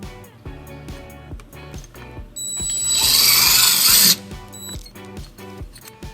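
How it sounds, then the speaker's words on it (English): A power drill fitted with a 3/16 bit drills a hole in a 2012 Toyota Highlander during a trailer wiring harness install. Clicking ratchet-like ticks come first, then a loud, steady high whine that lasts over a second before stopping. "we're going to drill our first hole"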